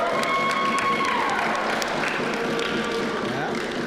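A warehouse crowd erupts at a Blitzball event, a sustained wash of cheering and scattered clapping filling the space at steady loudness, with voices mixed into the roar.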